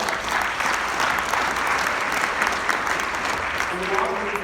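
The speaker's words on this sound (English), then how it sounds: "Can we give them a round of applause as well?" Sustained applause from the audience at a statewide conference, dense and steady for several seconds, with a voice emerging faintly near the end.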